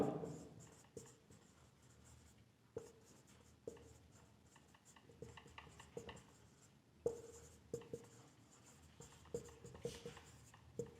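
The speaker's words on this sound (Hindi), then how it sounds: "मैं यहां लिख देता हूं" Chalk or marker writing on a board during a physics lesson on thermal conductivity, heard as faint, soft scratchy strokes and taps in irregular bursts, fairly close and alone without talk.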